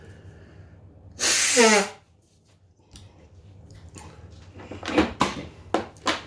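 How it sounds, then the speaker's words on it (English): A person forcefully blowing their nose, one loud, close, breathy honk lasting under a second, followed by quieter sniffing and handling noises. "I'm gonna blow my nose again, so forgive me."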